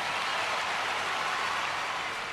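Steady crowd applause from the stands of a Top Spin 4 tennis match, played as Djokovic versus Nadal in Madrid. It is an even wash of clapping with no pauses or talk.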